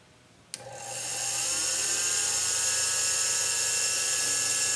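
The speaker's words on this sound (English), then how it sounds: "any of the Dremel tools will work. You just got to find the right tip." Dremel rotary tool engraving a coin: a sharp click as it switches on, then a high whine spinning up within a second and holding a steady, close, piercing pitch.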